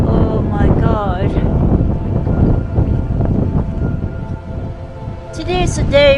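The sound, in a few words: strong wind on a ski chairlift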